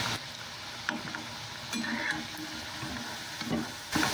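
Soyabean patties shallow-frying in hot oil, a steady soft sizzle with occasional faint clicks and stirring taps, close by and with no talk.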